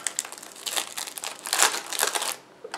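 Packaging crinkles and rustles up close as a box holding a LogiLink device is unpacked, a dense run of crackly crumpling sounds that eases off near the end, with no speech.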